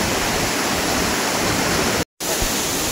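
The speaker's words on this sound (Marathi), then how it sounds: "हा धबधबा आहे." Waterfall deep in the Konkan forest near Ratnagiri, a dense, steady roar of falling water filling the scene, loud and close, broken only by a brief dropout near the end.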